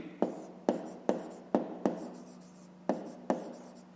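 Pen or marker strokes on paper or board while a 5th-grade math solution is written out, a series of sharp taps and short scratches in an irregular rhythm, close and fairly quiet, with no talking.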